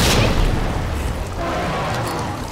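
A grenade detonates in the Resident Evil 2 Remake video game, a dense, loud blast that rumbles on and fills the whole short stretch with no speech.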